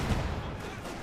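Distant machine-gun fire from an MG-34 in a Company of Heroes 2 battle rattles through dense, constant low-end game noise, sitting under the in-game soundscape for about a second.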